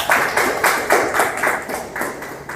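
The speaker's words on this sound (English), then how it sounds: "give yourself a round of applause" A crowd applauds for track and field coaches in a series of rhythmic bursts of clapping that swell and ease several times, steady and fairly loud throughout.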